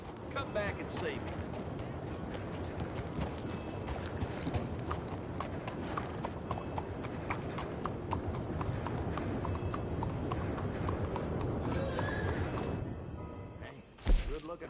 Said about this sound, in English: That horse doing all right?